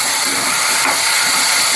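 Tomatoes hit a hot pan that already holds garlic and curry leaves for a chutney, giving a loud, steady hiss of sizzling that runs unbroken for about two seconds.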